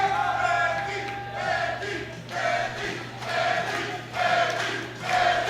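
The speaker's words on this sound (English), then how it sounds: "The crowd is behind him, chanting his name" A crowd chants a junior powerlifter's name before his final deadlift attempt at a men's junior 105 kg classic world powerlifting championship, a rhythmic chant of many voices rising and falling roughly once a second over steady arena hum.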